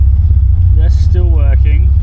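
A Nissan 300ZX Z32 engine runs rough just after a struggling cold start, a loud, continuous low rumble close by, while someone talks over it.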